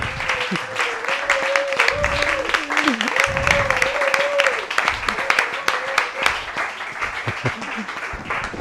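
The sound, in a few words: audience applause for the guest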